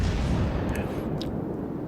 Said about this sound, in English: I try to shoot at the middle of the ship to get some nice citadel hits